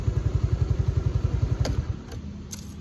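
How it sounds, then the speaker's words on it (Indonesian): The starter of a Suzuki Address scooter cranks noisily at close range, a fast low rattling chug for about two seconds before it cuts out, leaving faint hum and a few light clicks. "starternya itu masih yang berisik"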